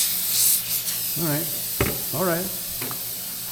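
A steady broadband hiss of pressurized air leaking from the A/C line of an International crew cab truck runs throughout, loud and constant, while someone talks briefly over it.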